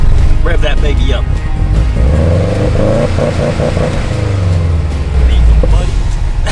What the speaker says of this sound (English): Diesel, baby. Diesel. Rev that baby up.